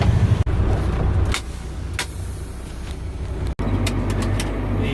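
A farm truck idles steadily nearby while its air brake pressure builds, a low constant engine rumble broken by a few short hisses and clicks.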